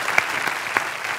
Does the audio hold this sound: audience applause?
yes